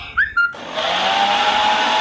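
After a couple of short high chirps, an electric mixer grinder making apple juice switches on with a sudden jump into a steady, loud whirring motor drone with a thin high whine.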